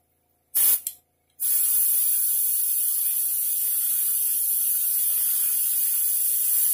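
An airbrush sprays paint over a stencil, a short burst followed by a long, steady, close hiss of airflow, with no talk.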